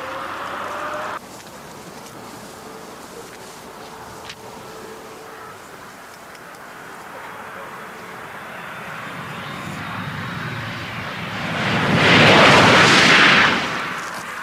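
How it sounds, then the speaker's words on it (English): An Eliica electric car accelerating gives a high, jet-like whine that builds steadily over a low rumble, swelling to a loud roar near the end before dropping away. "The Eliica sounds more like a jet aircraft as it speeds up."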